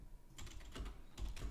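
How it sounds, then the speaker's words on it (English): Keys clatter on a computer keyboard during game-engine work, a quick close burst of soft taps in two clusters, quiet with no talk. "I will right click and I'll just type in onGrabbed."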